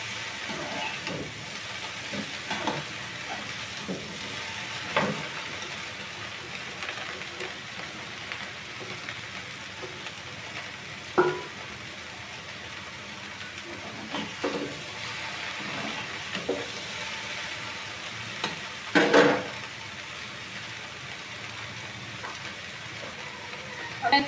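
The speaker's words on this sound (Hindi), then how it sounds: "मैं सारा धीरे धीरे करके मिला दे रही हूँ सब्जी को कढ़ाई में" Vegetables sizzle and hiss steadily in a kadai as they are slowly stirred, a continuous frying crackle with occasional spoon scrapes and clinks against the metal pan, close by.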